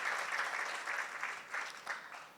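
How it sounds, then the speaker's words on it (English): A crowd applauds at the opening of the Sri Sathya Sai Sanjeevani Children Hospital in Fiji, a sustained, fairly distant wash of clapping that swells slightly before tapering off, with no talking. "This deserves a huge round of applause."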